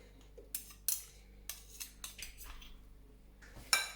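A spoon clinks and scrapes in a bowl while fruit dessert with honey is mixed, giving a series of short, close, bright taps at uneven intervals with a louder clatter near the end.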